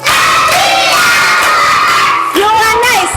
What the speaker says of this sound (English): Clap hands for widow.